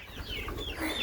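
A brief burst of clucking from roosters and bantam chickens in a barnyard on a windy day, close and moderately loud, with no talking.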